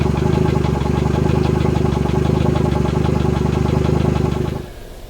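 A Yamaha F70 outboard engine runs steadily with a loud, close, throbbing idle, then cuts off near the end, leaving quiet.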